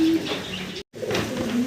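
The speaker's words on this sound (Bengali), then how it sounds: "জার্মান বিউটি হোমা, তাও আবার ব্লুবার কালারের।" Pair of blue bar German Beauty Homer pigeons cooing softly near at hand, low murmuring coos twice with a short silent gap between them.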